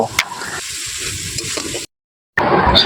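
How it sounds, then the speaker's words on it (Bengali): Tomato, green chilli and spiced masala cooked with a little water sizzle and get stirred steadily in a pan, with scraping strokes throughout, a sudden silent gap partway, then louder frying sizzle resuming. "এই মশলাটাকে বেশ ভালোটি করে কষিয়ে নেব।"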